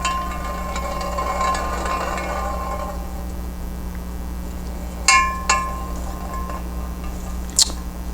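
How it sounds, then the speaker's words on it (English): A marble rolls around inside a round pan with a soft, steady rumbling roll, followed by a few sharp clinks and taps against the metal as it slows, over a low constant hum. "roll a marble in a round pan"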